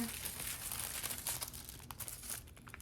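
Tissue paper crinkles and rustles in quiet, uneven bursts while a handmade product is wrapped for packing.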